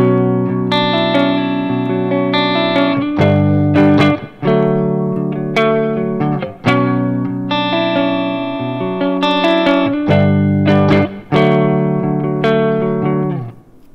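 Electric guitar played through a Line 6 Helix amp modeler, sustained chords and picked notes ringing out loud and alone in a steady rhythm, with short gaps between phrases.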